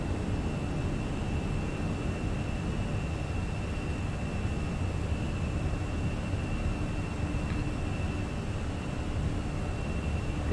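A Fenix A320 Airbus climbs after takeoff from Edinburgh in Microsoft Flight Simulator 2020. Its engines give a steady, even roar with a thin high whine running through it, and nothing else breaks the noise.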